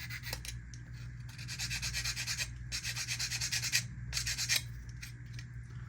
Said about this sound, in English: And then we're going to sand this back down again